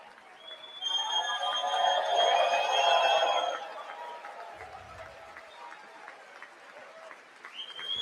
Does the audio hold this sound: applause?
yes